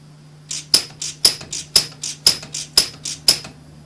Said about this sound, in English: So you can see we're getting 2 to 3 welds a second there.